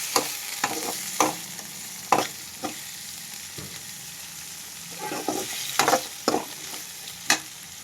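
Chillies and onion frying in a pan, a steady low sizzle under intermittent scrapes and clinks of a stirring spoon, close and moderately loud.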